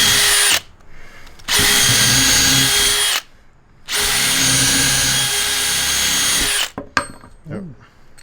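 Bad Dog Rover bits are run like a drill bit through wood, a power drill whining loudly in two long sustained bursts separated by a quiet pause, then winding down with a short final spin.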